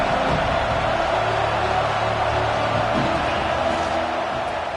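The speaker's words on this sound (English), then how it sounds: "This crowd ready to make its presence known." Football stadium crowd cheering, a dense, steady roar of many voices that holds at the same loudness throughout, with a commentator talking faintly underneath.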